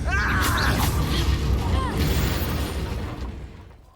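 An Incendio fire spell in the video game Hogwarts Legacy erupts in a loud, roaring burst with crackling, popping debris that fades out over a few seconds.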